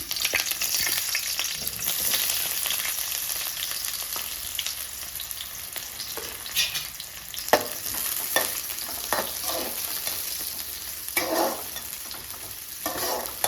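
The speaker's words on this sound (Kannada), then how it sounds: "ಎಣ್ಣೆ ಕಾದಿದೆ. ಇವಾಗ ಎಣ್ಣೆ ಒಂದೊಂದಾಗಿ ಹಾಕೋಣ. ಇವಾಗ ಫಸ್ಟ್ ನಾನು ಈರುಳ್ಳಿ ಹಾಕ್ತಾ ಇದ್ದೀನಿ." Onions fry in hot oil for a street-food recipe, a continuous close sizzle broken by sharp spatters and stirring scrapes, with no talk.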